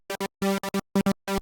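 A Serum synth patch with a trance gate chops a sustained chord into rhythmic bursts: short stabs, then longer held hits with silent gaps, repeating in a tight pulsing pattern, loud and alone.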